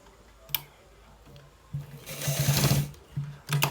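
A sewing machine stitching a designer collar shirt, its steady whirring rising to a louder continuous run in the middle, with faint clicks before and after.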